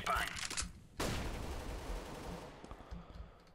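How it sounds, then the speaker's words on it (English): A flashbang grenade goes off in Counter-Strike: Global Offensive with a sharp, loud bang at about one second. A broad ringing wash follows and fades, alongside scattered gunfire-like game noise. "And then I'll throw a flashbang."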